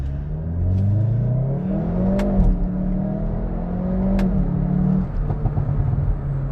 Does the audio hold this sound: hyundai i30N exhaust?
yes